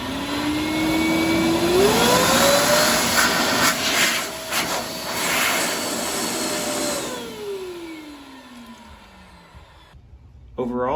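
A pet hair dryer blower runs at close range with a loud, rushing whoosh, its motor pitch climbing as it steps up through power settings and then winding down, with a voice faintly present.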